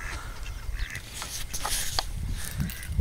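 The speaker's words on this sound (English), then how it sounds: "There's a mallard, green-headed mallard." Mallard ducks, including a green-headed drake, quack faintly at a beach, with a few short calls over steady outdoor wind and surf noise.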